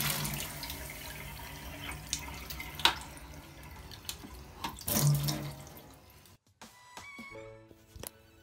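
Water runs steadily from a tap into a sink, splashing and gurgling close by, then cuts off near the end, leaving a few drips and quieter handling sounds.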